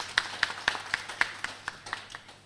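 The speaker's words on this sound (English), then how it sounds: "Ladies and gentlemen, another round of applause." A small audience at a financial reporting awards launch gives a sparse round of applause: about a dozen distinct, evenly spaced claps ringing out in a quiet room, fairly near and fading toward the end.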